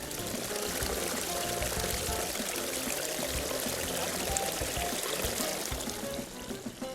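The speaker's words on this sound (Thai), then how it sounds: "โอ้เสียงน้ำไหลพี่น้องเอ้ย" Water flows and pours steadily in a rural spot in Suphanburi, Thailand, a continuous close, loud rushing sound with no break for the whole stretch.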